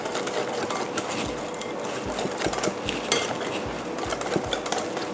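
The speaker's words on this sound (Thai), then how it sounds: "ก็จะเข้าคนให้เข้ากันนะคะ ก็จะได้เป็นเนื้อแป้งที่นำไปชุบตัวโอรโอค่ะ" A spoon or whisk stirs batter for fried Oreos in a bowl, producing quick, steady clicking and scraping strokes in a close, even rhythm with no talking.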